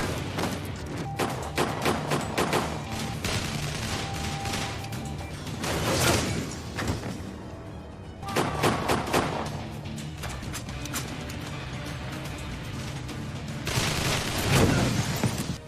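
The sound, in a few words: 50 caliber sniper rifle gunfire in a film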